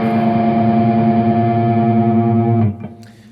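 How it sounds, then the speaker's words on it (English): An electric guitar rings out a sustained two-note interval through heavy distortion, loud and steady with a gritty grinding tone, then cuts off abruptly near the end and leaves a brief fading tail. "the distortion sound of the speaker is just really kind of grinding"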